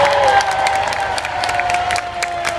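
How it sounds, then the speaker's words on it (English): Large outdoor crowd at a Manchester heroes parade applauding and cheering for the Paralympics equestrian team, a dense continuous wash of clapping with shouts, loud and steady, plus a faint whistle-like tone. "a massive round of applause for the Paralympics equestrian team and Lee Pearson"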